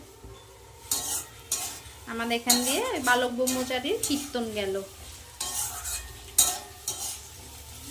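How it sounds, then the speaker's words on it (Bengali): Thinly sliced potatoes fry with onions in a pan, giving a steady sizzle broken by bursts of spatula scraping and stirring. A voice speaks and sings over the middle of the cooking. "আলুগুলো পেঁয়াজের সাথে ভালো করে ভেজে নেব"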